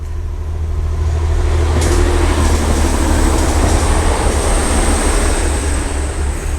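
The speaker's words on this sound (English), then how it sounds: "And there's a train." A train rumbles past steadily over a viaduct, a loud continuous roar with deep low hum and rattling wheels throughout, no voices.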